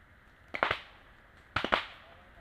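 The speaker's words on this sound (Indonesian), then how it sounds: "Jadi bambu kalau dibakar suaranya gini kayak suara petasan gitu." Bamboo burning on an outdoor rubbish fire pops like firecrackers: two quick clusters of sharp cracks, each a few rapid snaps, heard faintly at a distance with a quiet gap between them.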